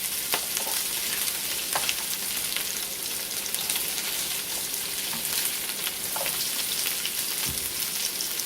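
Potatoes and onions, boiled first, frying in a pan, a steady dense sizzle with scattered pops, close and continuous with no talking.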